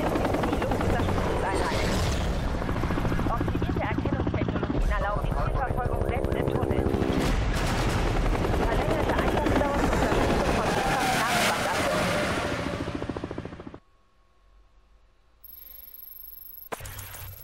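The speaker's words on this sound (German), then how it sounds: "Helikopterstufe 2." A police helicopter chasing cars in the racing game Need for Speed Hot Pursuit Remastered, its rotor drone loud and continuous over engine roar and game effects, cutting off abruptly near the end.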